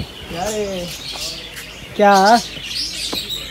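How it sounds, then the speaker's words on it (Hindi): Small caged sparrows chirp in a few short tweets and one louder call, close by, with a voice speaking briefly over them. "यहाँ पर चिड़िया इनमें जो है बैठी हुई हैं"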